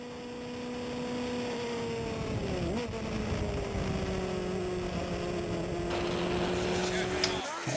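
A race car at Willow Springs holds a steady engine drone on track, its pitch dipping briefly around a shift before settling into a long, even note.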